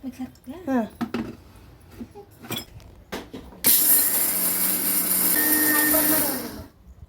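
Kitchen mixer grinding roasted gram and peanuts together, a loud steady whirring grind that starts abruptly, runs about three seconds and cuts off, following a stretch of talk and light kitchen clatter.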